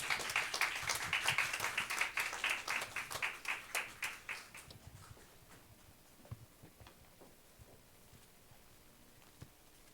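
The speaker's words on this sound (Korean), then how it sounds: "우리 나오실 때 우리 박수로 환영하도록 하겠습니다" Applause at a church service welcoming a pastor to the front, rhythmic unison clapping for about five seconds that then stops, followed by faint scattered room sounds.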